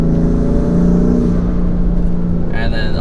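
A BMW M3 F80 with new aluminum-plumbed intakes holds a loud, steady engine drone with a rising whir from turbo spool, ending in a high whistle near the end.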